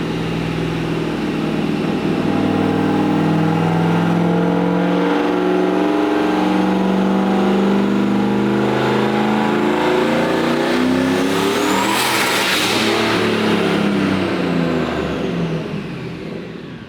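A turbocharged Pontiac WS6 engine revs hard on a dyno, steadily climbing in pitch under heavy load, loud and sustained, with a turbo whine rising near the end before it eases off.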